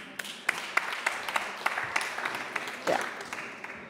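Applause in a city hall assembly, a steady patter of clapping hands with a few sharper claps standing out, running through the whole stretch at moderate loudness.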